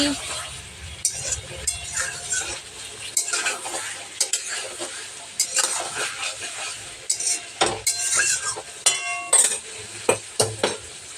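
A spoon scrapes and stirs chicken kosha sizzling in a pan, with intermittent metallic clinks and scraping strokes over a steady frying hiss, close up.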